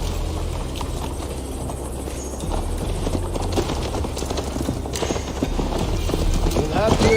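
Horse hooves clip-clop steadily across the whole stretch in Assassin's Creed Valhalla, a continuous near rhythm of hoofbeats blended with the game's ambient backdrop, without a break.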